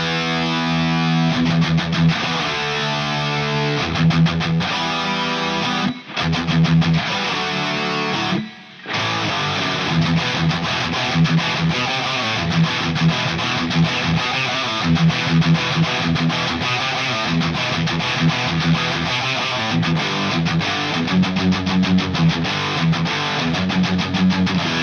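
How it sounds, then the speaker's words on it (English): Distorted electric guitar riff played through a distortion pedal with no reverb, loud and dense with chugging rhythmic phrases, two short breaks of silence near the start, then continuous driving playing to the end. "For this tone, no reverb, no nothing, just the distortion pedal."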